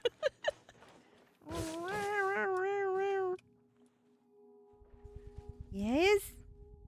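A cat gives a long drawn-out meow, then after a pause a short rising meow, close and clear, with a few faint clicks and a low purring rumble between calls.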